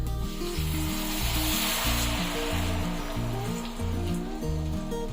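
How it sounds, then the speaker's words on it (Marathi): Coconut milk goes into roasted rice in a hot pan, raising a dense, continuous hiss and bubbling sizzle that holds steady beneath loud background music. "त्यामध्ये आता मी दोन वाटी नारळाचं दूध घेतलेलं आहे ते टाकून घेते"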